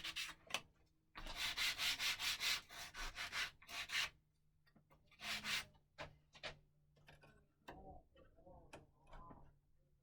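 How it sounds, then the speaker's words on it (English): Brisk back-and-forth scrubbing of a sanding block on wood in several quick bursts, separated by pauses with light taps and handling noises nearby. "We're just going to touch it up with a sanding block."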